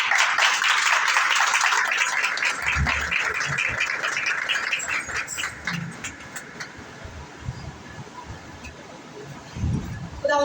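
Audience applause at a worship gathering, loud and dense at first and then fading into scattered claps and crowd murmur, with voices coming through near the end.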